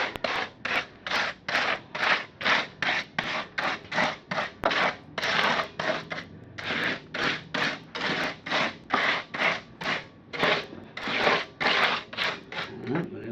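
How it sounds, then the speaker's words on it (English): Spatula spreading a thick 3/8 to 1/2 inch wet coating over a wine barrel for a fire feature, dozens of rhythmic scraping strokes in a steady back-and-forth pattern, close and fairly loud. "I'm going to use a spatula"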